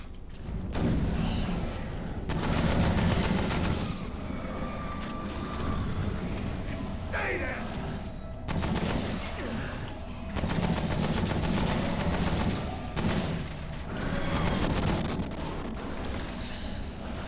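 SMG gunfire in the video game Remnant From the Ashes: loud, dense bursts of rapid automatic shots repeating in several long volleys with brief gaps, filling the whole stretch.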